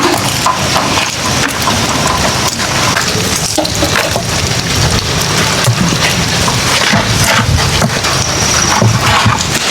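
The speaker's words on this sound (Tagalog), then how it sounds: "So ngayon mga kalab ay umuulan na po dito." Steady heavy evening rain at a fishpond patters and crackles on a surface throughout, dense and close, with no voices.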